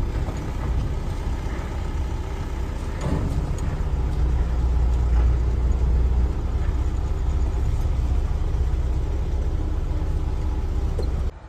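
A truck engine runs steadily as the vehicle is driven out and parked, a low rumbling idle-and-move drone holding for about eleven seconds with occasional knocks and rattles, cutting off abruptly at the end.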